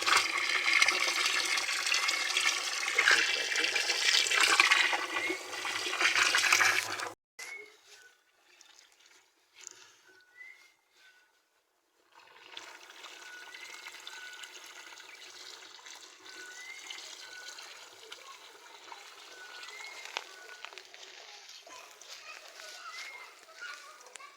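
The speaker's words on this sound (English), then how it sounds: "So we are going to fill this drum with water" Water pours loudly into a drum in a steady rush for several seconds, stops abruptly, then a quieter, continuous flow of running water follows with faint background noise.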